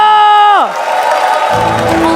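An arena crowd at an MPL Indonesia Season 12 esports match cheers and claps after a falling synth swoop, a broad roar of many voices and hands blended with music underneath.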